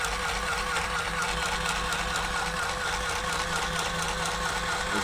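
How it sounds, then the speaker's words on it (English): Sewing machine stitching a line across cloth for an Indian chess board: a steady, close mechanical whir with a fast even pulse, running unbroken throughout. "we can sew this down without anything falling apart on this. So we're just sewing down that line"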